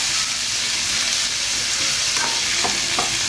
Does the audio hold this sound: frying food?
yes